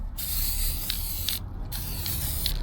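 A spray gun lays a light dust coat of paint on a repaired Corvette vacuum tank, hissing steadily in one long pass with two brief pauses and faint clicks.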